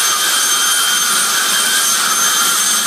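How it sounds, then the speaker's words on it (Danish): A 15,000 hp jet-turbine car roars steadily at full running power, a loud, dense high-pitched whine and rush with no breaks, close and alone without any voices. "nu har vi altså fået fyret op i jetmaskineriet"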